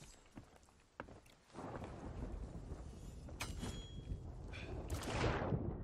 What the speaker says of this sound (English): Can I get this storm? It's too close.